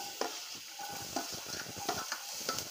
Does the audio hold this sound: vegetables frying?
yes